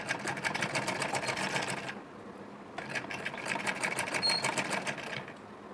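A sewing machine stitches pleats on a blouse sleeve, running in a fast continuous rattling whir close by, pausing for about a second partway through before starting up again.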